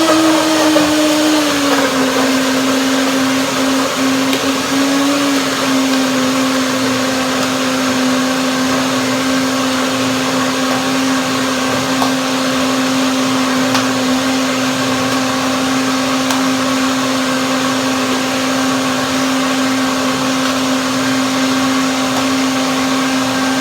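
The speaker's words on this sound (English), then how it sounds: "Blend it up. Blender dance." A blender runs continuously on basil, mango and blueberry pudding, a loud steady whir with a slight pitch drop early on as the blades settle in the mix.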